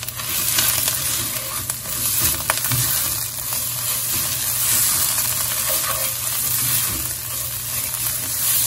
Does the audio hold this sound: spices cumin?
yes